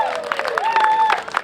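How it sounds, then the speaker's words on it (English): Ceremony audience applause, moderately loud and dense, with a sustained tone and voices mixed into the clapping. "Let's give another round of applause to Brandy"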